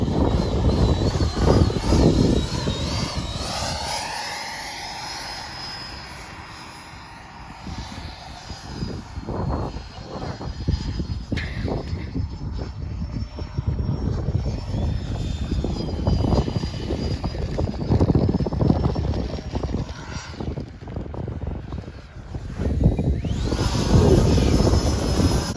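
Aircraft coming in to land at an airshow, a steady propeller and engine drone that swells, dips and returns over about 25 seconds, moderately loud with wind buffeting and no talk.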